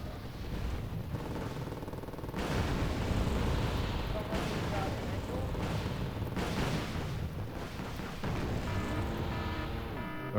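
Artillery counter-battery fire in the video game Wargame Red Dragon, a dense, continuous roar of rumbling blasts and booming impacts with several sharp swells, loud and sustained throughout.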